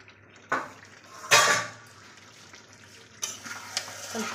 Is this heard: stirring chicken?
yes